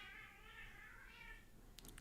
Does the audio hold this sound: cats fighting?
yes